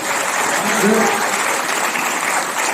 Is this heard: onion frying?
no